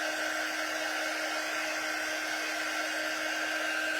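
A hair dryer runs steadily and close by, drying Mod Podge on a napkin craft project, a constant whooshing hum with a steady tonal whine and no voices.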